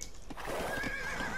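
A horse neighs in a strategy video game set in the Wild West, giving a single clear, fairly close whinny over light background hoof clatter.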